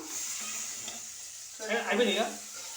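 Chillies and gongura leaves frying in a pan make a soft, steady sizzle close by, with a louder burst of crackling partway through as more goes into the oil.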